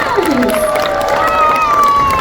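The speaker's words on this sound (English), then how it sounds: "Can we give them another round of applause?" Audience at a Hersheypark seal and sea lion show applauding and cheering, a steady crowd roar with scattered shouts and whistle-like tones throughout.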